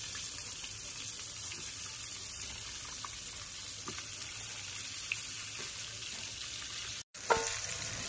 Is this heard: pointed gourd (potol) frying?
yes